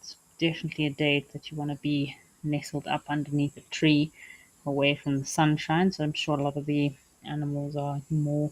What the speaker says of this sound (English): You can hear those cicadas calling.